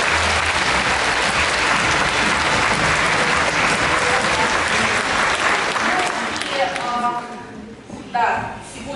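Theatre audience applauding at a performance of "Thousand and One Nights" in Ulyanovsk, dense steady clapping filling most of the stretch before thinning out near the end.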